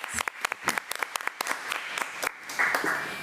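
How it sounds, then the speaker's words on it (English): At a school committee meeting, a small crowd applauds a school staff member with a brief round of distinct, fairly close claps that thins out at the end as a faint voice starts. "Let's give Ms. Smalls another round of applause."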